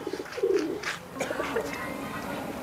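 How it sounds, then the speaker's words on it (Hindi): A female pigeon gives a low, soft coo close by, with people talking quietly in the background. "ये देखें क्या बेहतरीन कबूतरी है"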